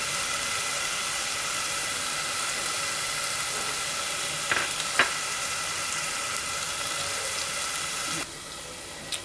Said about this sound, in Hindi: अब इसको हल्का हल्का भून लेंगे जब तक ये सोते हो जाए